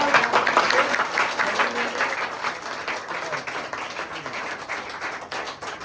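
An audience at a naming ceremony claps, with dense, steady applause continuing throughout and gradually easing in volume.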